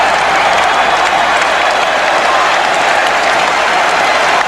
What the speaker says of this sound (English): This crowd is absolutely delirious.